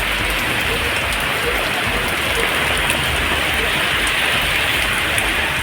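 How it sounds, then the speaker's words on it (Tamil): Heavy rain pours steadily in Thuraiyur, Tamil Nadu, a loud, dense, unbroken hiss of drops on surfaces with no pauses or voices. "துறையூர் சுற்றுவட்டார பகுதிகளிலும் 1 மணி நேரத்திற்கு மேலாக கனமழை வெளுத்து வாங்கியது"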